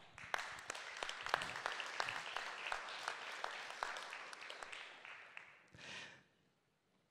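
An audience at a Kraków awards ceremony breaks into loud, dense applause with many sharp individual claps, which holds steady for several seconds before dying away quickly into silence.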